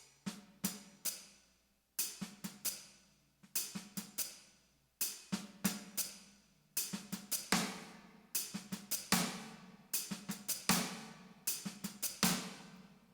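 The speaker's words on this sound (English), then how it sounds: "Okay, that's the second hi-hat pattern." Drum kit playing a steady eighth-note hi-hat pattern with soft snare ghost notes, repeated in short phrases with brief gaps between them, close and clear with no talking.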